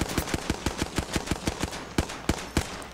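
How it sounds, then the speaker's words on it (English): Suppressive fire in a video game firefight: rapid automatic gunfire in steady bursts of sharp, loud shots at close range, about five per second, with a brief gap near the end. "I'm using suppressive fire."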